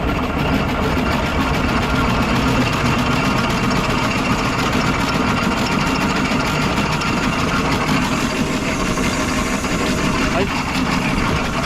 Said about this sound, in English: you can feel the engine braking